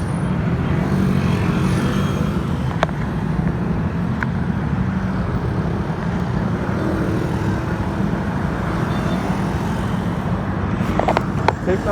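Dense city street traffic in Metro Manila at night, heard from a moving Mio Gear 125 motorcycle: a continuous wash of engines and road noise, with a couple of faint distant clicks and no talking.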